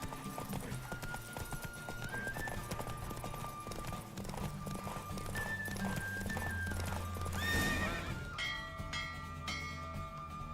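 Galloping horse hooves in a Witcher 3 horse race, a steady rapid clip-clop with a horse whinnying, set against game music and ambient sound.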